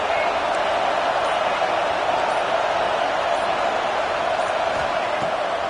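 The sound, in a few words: stadium crowd cheering at football game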